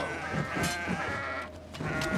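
Goats in the video game Kenshi bleat loudly and repeatedly in a short burst of overlapping nasal cries, with no one speaking.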